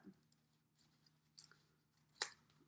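Scissors snip in a quiet room, a few soft separate cuts spread out and then one sharper, louder snip near the end.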